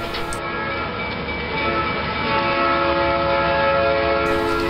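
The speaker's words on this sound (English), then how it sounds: "And here comes that train." A model freight train headed by three six-axle U-boat locomotives rumbles steadily with sustained horn-like tones, droning at an even level and swelling slightly louder as it draws closer.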